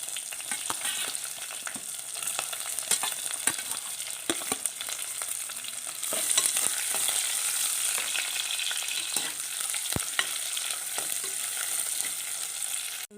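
Fifteen small chopped onions sizzle in a pan for a hog plum and fish curry, a steady close frying hiss with faint stirring scrapes that grows a little louder halfway through, with no talking.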